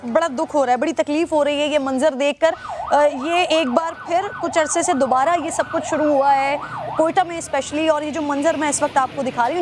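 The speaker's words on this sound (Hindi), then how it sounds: "एम्बुलेंसेस के सायरन आपको सुनाई दे रहे हैं" Ambulance sirens wail at the scene of a bomb blast in Quetta, where vehicles are burning, running continuously beneath a woman's steady, close-up talking.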